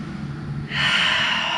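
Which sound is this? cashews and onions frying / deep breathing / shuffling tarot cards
deep breathing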